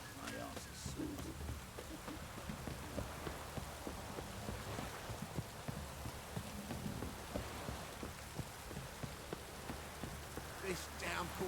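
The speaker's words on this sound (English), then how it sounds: "This downpour's a bastard" Heavy rain pouring in The Witcher, a constant hiss of drops drumming on surfaces with faint low rumbling beneath, steady throughout at moderate loudness.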